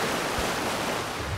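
Water runs down an irrigation ditch as a dense, steady rushing hiss, close and continuous, with no talking.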